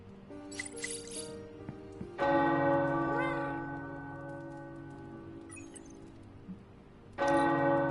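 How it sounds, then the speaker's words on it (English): Resonant tower bells in the video game Marvel's Midnight Suns ring out in two loud strikes, each sustaining a rich, slowly decaying hum, with lighter chiming at the start. "The tower bells are ringing."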